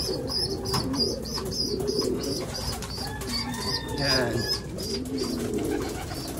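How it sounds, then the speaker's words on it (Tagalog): Pigeons coo in a repeated, soft rhythm close by, with a few chirps mixed in, while someone talks over them. "Medyo marami na tayong ibon"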